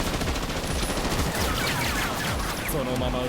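Rapid, dense gunfire from a gang boss's henchmen in an anime battle scene, a continuous loud volley of overlapping shots with a voice faintly mixed in.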